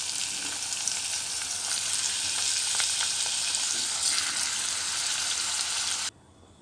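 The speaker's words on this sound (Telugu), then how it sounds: "ఆయిల్లో కొంచెం కరివేపాకు, పచ్చిమిర్చి కొంచెం వేపిన తర్వాత టమాటోస్ యాడ్ చేసుకోండి" Chopped tomatoes fry in hot oil with curry leaves and green chillies for a tomato drumstick curry, giving a loud, steady, close sizzle that runs unbroken and then cuts off abruptly just before the end.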